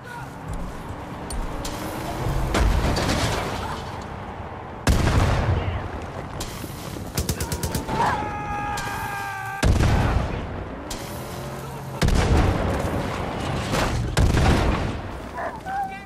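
Heavy gunfire and booming explosions from Far Cry 5 combat, loud bursts and rapid shot volleys recurring throughout, with a shouting voice and game noise mixed in.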